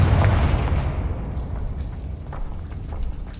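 A Confringo explosive spell blast in the Hogwarts Legacy video game, one heavy booming burst that fades into a crackling, rumbling tail.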